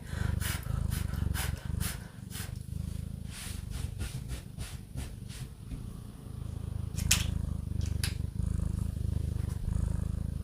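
A cat purrs up close in a low, steady rumbling drone that carries on throughout, with soft clicking and rustling sounds scattered over it.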